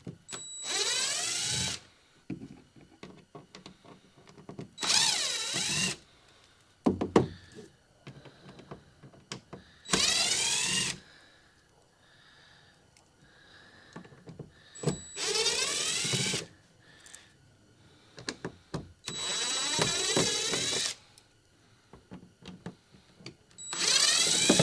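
A power drill runs in several short bursts of a few seconds each, driving screws into a plastic kayak hatch, with quiet gaps between the runs.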